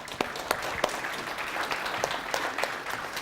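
A conference audience applauds steadily and fairly close, with dense clapping throughout and a few sharper individual claps standing out.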